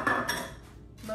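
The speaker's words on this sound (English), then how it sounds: "I'm gonna take my cookie pan," A metal cookie pan is picked up and handled, producing a quick series of close metallic clanks and rattles.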